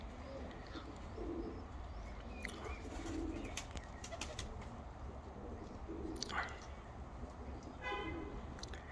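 Breeding pigeons in summer coo softly and repeatedly amid faint chirps and occasional wing flutters, with a low steady background hum.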